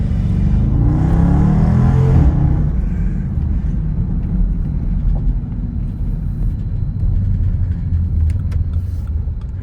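Loud car engine with the muffler removed, a rough low rumble swelling into a rev in the first couple of seconds, then settling into a steady throaty idle drone.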